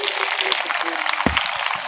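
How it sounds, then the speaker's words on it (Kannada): Crackling applause from an audience at a devotees' gathering runs under a voice, the many overlapping claps forming a busy patter beneath the talk. "ಒಂದ್ಸಾರಿ ಜೋರು ಚಪ್ಪಾಳೆ ತಟ್ರಿ ನೋಡೋಣ"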